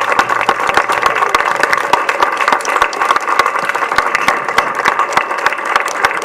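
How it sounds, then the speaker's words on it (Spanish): Loud, dense applause fills a special-needs school gathering after the students are honored, many hands clapping steadily throughout with no pause. "les pido un aplauso"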